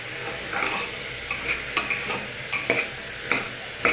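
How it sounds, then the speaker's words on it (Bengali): Chana dal lightly frying in a pan while being stirred, a close steady sizzle punctuated by repeated sharp spoon scrapes and clinks against the metal at irregular intervals. "ডালটা কিন্তু একটু হালকা করে ভাজা হয়ে গেছে, কাঁচা গন্ধটা চলে গেছে"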